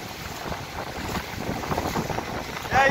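Strong waves roll in at a beach at Arraial do Cabo, Rio de Janeiro, heard as a continuous rushing wash of surf mixed with gusty wind noise on the microphone, loud and close.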